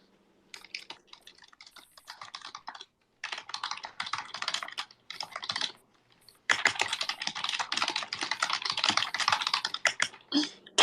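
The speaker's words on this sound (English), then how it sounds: "Dude's going to war with that keyboard." Someone types hard and fast on a computer keyboard, a loud close clatter of keystrokes in bursts with short pauses, heaviest and densest in the second half.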